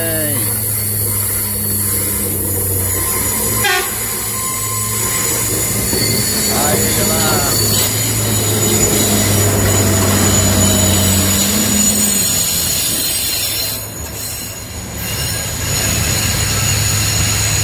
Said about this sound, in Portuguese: Pegamos o trem de Cabangu.